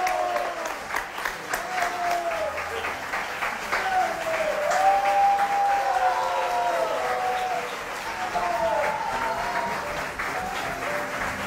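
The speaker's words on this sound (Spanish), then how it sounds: "pido un aplauso fuertísimo para ellos" Studio audience applauds loudly and steadily throughout a Peruvian Saturday television variety show, with the host's voice and other voices rising over the clapping in places.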